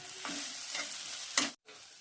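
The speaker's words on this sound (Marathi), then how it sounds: "आता आपण खोबरं टाकायचं, ते पण चांगलं भाजून घ्यायचं।" Coconut being dry-roasted in a pan: a few scraping stirs at a steady pace over a soft, continuous crackle.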